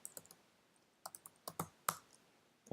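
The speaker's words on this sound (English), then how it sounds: "You would type in your old password," Password being typed on a computer keyboard: quiet, close key clicks in short irregular bursts with pauses between, otherwise near silence.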